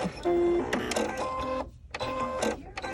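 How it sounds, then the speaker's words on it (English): A sewing machine set up with a twin needle, whirring and clicking mechanically in short motorized bursts with whiny tones, close and fairly quiet, as it automatically raises the presser foot. "the machine's set to automatically raise the foot"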